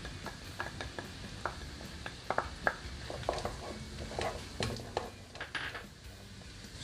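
Garlic added to onion sautéing in butter in a pan, with faint sizzling under scattered clinks and scrapes of a spoon stirring against the cookware, close and fairly quiet.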